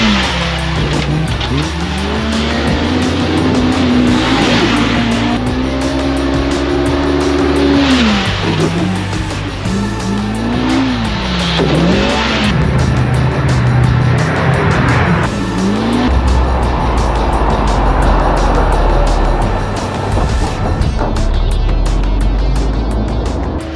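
A Polaris RZR Pro R side-by-side on 37-inch tires and race wheels drives hard at a track, its engine loud and close, rising and falling through gear changes, then dropping to rough idle and gravel noise.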